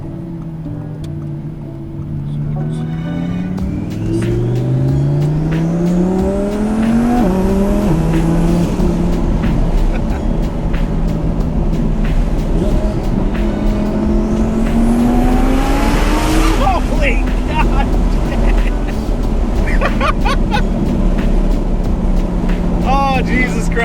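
A 1200 hp Audi R8 engine roars under hard acceleration, its pitch climbing in sweeps through quick gear shifts, loud and close from inside the car and continuous throughout.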